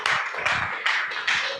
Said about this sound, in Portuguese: Uma salva de palmas ao Espírito Santo